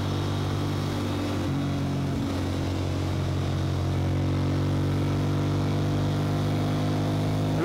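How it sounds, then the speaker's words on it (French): A 1999 Ducati Monster 600 motorcycle engine runs steadily, its tone shifting slightly around the two-second mark as it revs, a loud, close, continuous drone with no voices. "moteur prend bien ses tours."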